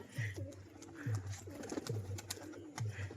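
A pigeon coos softly in four evenly spaced, low, rolling calls, each a short throaty burble, fairly faint and alone.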